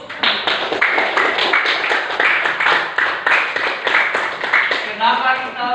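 Children in a classroom clapping hands in a fast, steady rhythmic pattern, loud and close, with the claps ending in a brief scatter.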